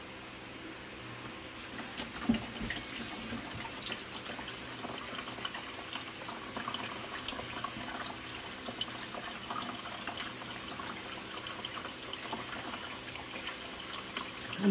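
Water drains and trickles out of a lifted screen back into a container, a faint, continuous patter of dribbling and dripping with a few louder splashes near the start and end.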